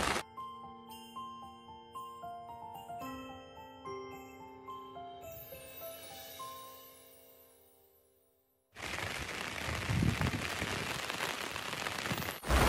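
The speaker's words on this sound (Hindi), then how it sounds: "और अच्छी जोरों की बारिश है।" Heavy rain pours onto a rooftop, a dense steady hiss that begins partway through after a stretch of soft chiming music and continues loud to the end.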